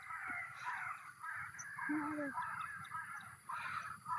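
A crow caws in the morning at a wedding gathering, a few hoarse calls mid-distance over a low background hum with faint voices.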